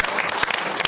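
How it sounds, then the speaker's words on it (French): A brief burst of loud, dense applause breaks out as a guest is introduced at a year-end panel show, many hands clapping together at once. "qu'on applaudit bien fort"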